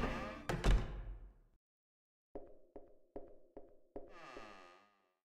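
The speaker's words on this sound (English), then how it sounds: "I heard a door." Door sounds in The Witch's House MV video game: a few loud knocks or thuds at the start, then a run of five even-spaced wooden clunks in quick succession, with a short rattling tail.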